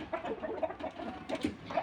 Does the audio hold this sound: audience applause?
no